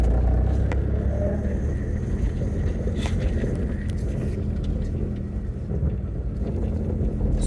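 A 40-year-old Ford Capri Turbo on the road, its steady engine and tyre rumble droning up close with wind buffeting throughout, no voices.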